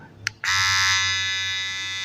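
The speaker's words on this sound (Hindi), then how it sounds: "तो सबसे पहले यहाँ पर मी वाला ट्रिमर जो है ऑन करते हैं" A click, then a Mi electric hair trimmer whirs on with a loud, steady buzzing hum that holds close and constant.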